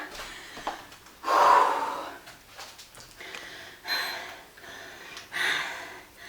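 A woman pants heavily after a 12-minute no-equipment full-body HIIT workout, taking four or five loud, close, rhythmic gasping breaths that come in separate surges.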